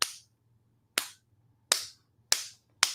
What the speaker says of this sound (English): Let's do one more clap competition